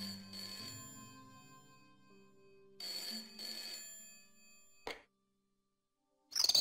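A telephone rings out during a call to Nicole in the Broken Sword point-and-click game. Several ringing tones with bell-like harmonics play in bursts, a sharp click follows, then a short silence before another sound begins.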